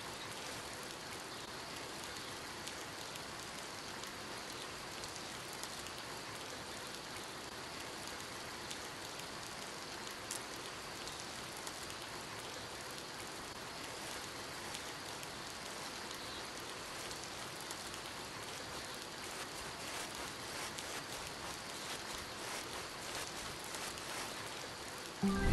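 Steady rain pattering on surfaces in the hunting game Hunting Simulator 2, a constant even hiss of drops with no other sounds, continuing unbroken throughout.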